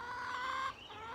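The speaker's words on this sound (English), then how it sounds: "chickens, as you can hear in the background" Hens clucking steadily at close range, a continuous run of throaty, overlapping calls with a slight drop in pitch partway through.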